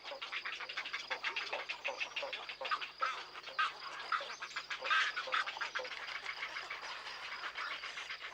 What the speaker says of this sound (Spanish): En esta ruidosa colonia de cría anidan cerca de 400 parejas de espátulas, 100 parejas de garzas reales, 800 de garcetas y más de 2000 parejas de espulgabueyes.